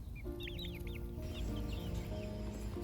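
Chicks in a chicken run cheep and cluck in a few short, high chirping bursts, close by over a constant low background hum.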